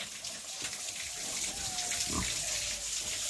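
Pigs in a pigsty are being cleaned with water. Steady running or splashing water fills the clip, with faint grunting and low rustling beneath it. The whole scene is fairly quiet.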